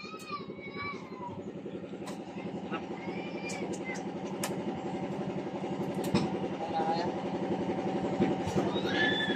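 A small boat engine chugs steadily with a rapid, throbbing rhythm throughout, while people talk over it nearby.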